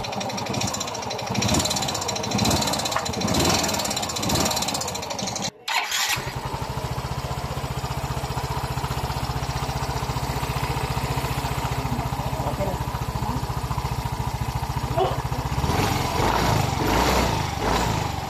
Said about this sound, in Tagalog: yung muffler para marinig yun na ang tunog ng kanyang makina